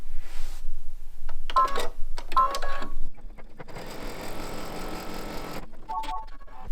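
A computerized embroidery machine stitches a tack-down rectangle around fabric in the hoop for a mug rug: short whirring bursts and beeps, then a steady, close, buzzing stitching run that stops abruptly.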